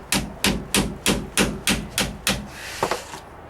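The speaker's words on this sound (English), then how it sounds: "take the screwdriver and actually pound against the" A screwdriver being pounded against a pinion shaft seal on a Dodge Ram 2500's Dana 70 axle: eight evenly spaced sharp metallic knocks, close and loud, followed by a brief scrape and a couple of softer taps.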